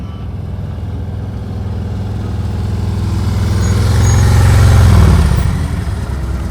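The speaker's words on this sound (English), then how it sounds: "Damn, those bikes sound good." Motorcycles ride past during an advanced slow-speed riding practice session in Florida, a low engine rumble that swells as the bikes draw closer and then eases, with no voices over it.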